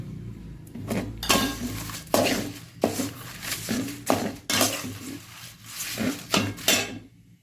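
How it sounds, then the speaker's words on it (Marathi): Bay leaves roasting in oil in a pan, stirred with repeated close clinks and scrapes of a spoon against metal in an irregular rhythm, each stroke sharp and fairly loud, with a low frying hiss beneath. "आता आपल्याला त्याच तेलामध्ये तमालपत्री भाजून घ्यायची आहे."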